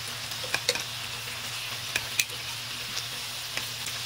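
Pork ribs simmering and frying in a hot pan, a steady low sizzle with occasional soft ticks and pops, close and alone with no voices.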